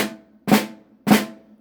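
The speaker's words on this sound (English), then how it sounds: "So this would be considered a left flam, since my left hand is the high note." Three crisp left-hand flams are struck on a snare drum at an even, unhurried pace, each a sharp crack with a short ringing tail, close and alone.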